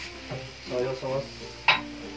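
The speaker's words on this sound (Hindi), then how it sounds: "अब हम इसको अच्छे तरीके से मिक्स करेंगे।" Chili sauce, vinegar and soy sauce stirred together in a pan for a spring roll filling, giving a few soft scraping strokes with faint sizzling and one sharp utensil clink near the end.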